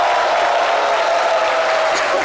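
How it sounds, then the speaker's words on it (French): A crowd claps continuously, a dense, even wash of applause filling the whole moment. "le doyen Cassie, que je vais vous demander d'applaudir"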